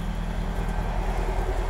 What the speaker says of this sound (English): The exhaust, you know, the nice loud ones.